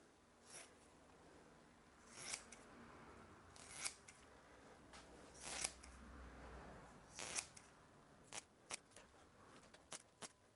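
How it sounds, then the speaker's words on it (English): Scissors cutting carbon fibre fabric to shape for custom wheel arches on an Alfa Romeo 159, a quiet close series of crisp snips at irregular intervals over a faint background hiss. "Now we're going to try and cut this to a bit nicer of a shape"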